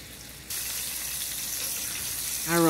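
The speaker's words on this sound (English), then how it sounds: "we are going to add our fish pieces to a frying pan with some oil that" A sudden, steady sizzling hiss begins as fish fillets hit hot oil in a frying pan and continues close up, with a voice starting just at the end.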